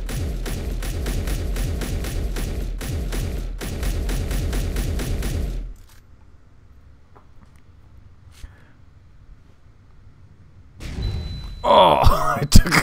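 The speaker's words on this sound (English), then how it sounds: "Oh, I took a cannon to the face. I heard it." Cannon fire in the Space Engineers game, heard as a rapid, heavy, rhythmic barrage of booming thumps for several seconds. After a near-silent pause, a loud, harsh impact hits at the end.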